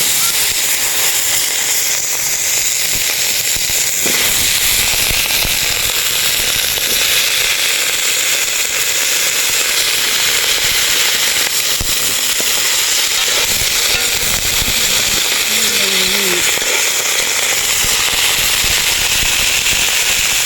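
A strong cooking fire crackles and hisses inside a nipa hut as galunggong fish with okra is sautéed over it, a loud, dense, continuous sizzle with rapid pops filling the whole stretch.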